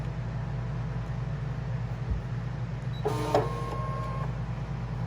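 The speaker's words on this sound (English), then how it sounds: "now I can unload the mat" A Brother ScanNCut cutting machine unloads its cutting mat with a short whirring motor sound lasting about a second, heard close over a steady low background hum.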